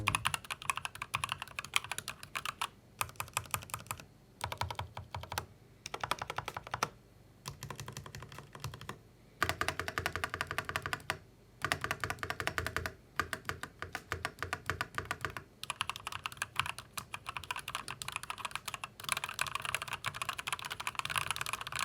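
Steady, rapid clacking of an Asus ROG Strix Flare II Animate mechanical keyboard with PBT doubleshot keycaps, keys struck in quick bursts with brief pauses, close and crisp, no talking.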